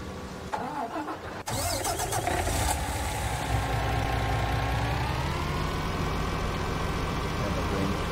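A truck engine in Farming Simulator 19 cranks and starts after a few clicks, then settles into a steady mid-pitched idle that runs alone for several seconds.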